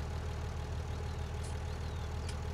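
An International truck idles in Farming Simulator 19, a steady low diesel rumble with an even pulsing throb, continuous and moderately quiet, plus a couple of faint brief high clicks.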